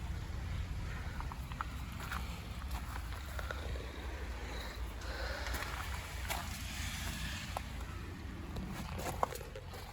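Steady rain pattering across a surface, a continuous soft wash of droplets with scattered sharper ticks, no voices.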